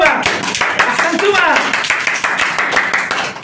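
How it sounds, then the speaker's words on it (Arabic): Children's audience clapping for two winning kids at a school entertainment session, steady brisk handclaps across the whole stretch with voices and chatter mixed in. "تصفيق لهما، أحسنتما."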